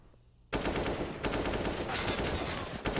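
Rapid automatic gunfire rattles loudly and continuously during a Counter-Strike esports match on the Mirage map, starting abruptly after a brief quiet moment.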